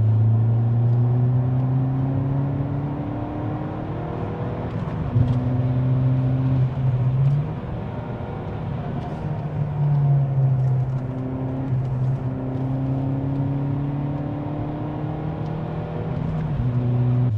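A Ford Fiesta ST with 200 hp drives hard up the Mont Cenis mountain pass, its engine droning steadily through rising gear pulls with brief dips at shifts, heard from inside the cabin for the whole stretch.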